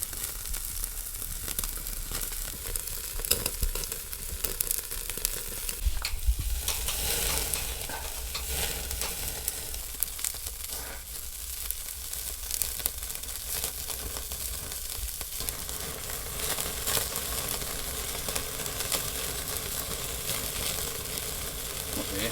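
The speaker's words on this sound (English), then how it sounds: "Cooking steak in the snow" Steak sizzling on a charcoal grill outdoors in falling snow: a continuous close crackling sizzle with scraping and stirring noises mixed in, steady throughout without talk.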